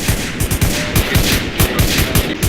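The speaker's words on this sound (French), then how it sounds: "Ça tire au niveau du hangar rouge" Loud, continuous rapid gunfire in a video game, with dense overlapping bursts of automatic shots close by and no voices over it.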